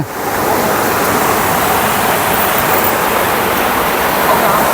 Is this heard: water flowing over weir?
yes